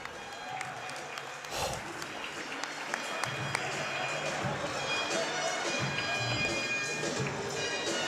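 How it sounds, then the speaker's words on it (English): Crowd applause fills a school gym during a varsity wrestling meet honoring senior wrestlers, a steady wash of clapping and cheering that carries through the whole stretch with voices mixed in. "let's give all of our Lady Devil and Maroon Devil senior wrestlers another big round of applause"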